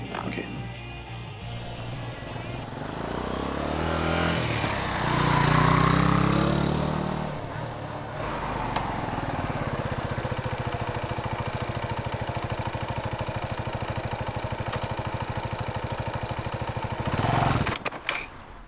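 A motorcycle engine idles and revs close by, swelling in a throaty surge before settling into a steady, rough idle and cutting off near the end, with speech over it.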